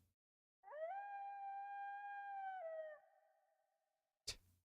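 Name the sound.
wolf howling sound effect in the video game Persona 3 Portable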